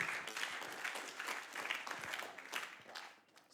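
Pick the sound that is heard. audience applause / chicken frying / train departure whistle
audience applause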